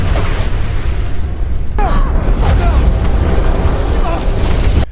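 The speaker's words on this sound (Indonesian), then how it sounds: "muncul sebuah ledakan yang mengagetkan mereka semua" A sudden loud explosive boom bursting in a tense military scene, dense rumbling blast energy that rolls on for several seconds alongside shouted voices and crackling debris.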